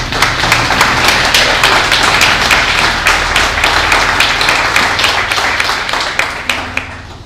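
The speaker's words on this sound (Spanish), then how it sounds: "¿Cuánto le dan un aplauso al Señor en esta hora?" A church congregation claps loudly and close in a sustained burst of rapid, overlapping hand claps for about seven seconds, thinning slightly at the very end, with no talk over it.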